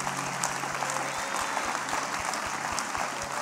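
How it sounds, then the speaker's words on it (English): A church congregation claps in a steady rhythmic beat, many hands together in a large room, sustained across the whole stretch with a faint murmur of voices beneath. "New Birth, would you clap your hands even now?"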